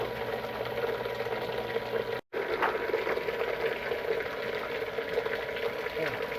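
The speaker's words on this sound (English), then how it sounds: "we're at the end of our stirring process, so we're going to go ahead and shut the blender off" A lab blender stirs a veal feed sample in a test for Sudan Red dye, giving a steady churning, bubbling whir that runs on unbroken, with one brief drop near the middle.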